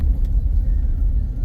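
Chevy truck driving in auto four-wheel drive, a steady low engine and tire rumble heard from inside the cab, continuous and fairly loud with no other sounds.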